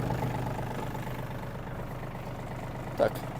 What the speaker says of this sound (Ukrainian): Дамо двигуну трохи прогрітись